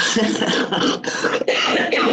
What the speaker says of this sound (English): I'll probably be coughing all day